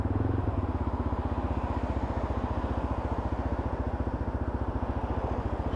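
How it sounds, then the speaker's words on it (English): A Lexmoto LXR motorcycle pulls out into traffic, its growling exhaust thumping in a fast, steady pulse that stays close and loud throughout, with no talk over it. "that exhaust has got a growl to it as well"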